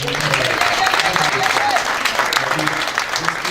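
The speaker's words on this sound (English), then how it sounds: "How about a round of applause for the choir?" Audience applause for a choir at a Toys for Tots 2017 event, steady clapping from a crowd indoors, continuous and fairly loud, with a voice speaking over it.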